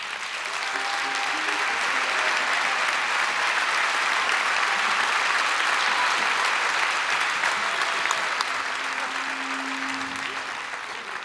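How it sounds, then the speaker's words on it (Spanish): A concert audience at a tribute concert in Asturias applauds in a long, dense, even wave of clapping that swells and holds, then begins to fade, with a brief tone near the end. "Para todos ellos voy a pedir un aplauso también."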